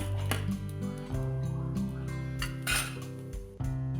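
Fried onion scraped off a pan onto a plate, with metal spoon clinks and scrapes against cookware in a short, uneven run of contacts near and clear.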